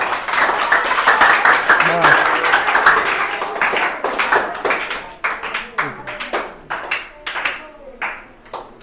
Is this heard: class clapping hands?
yes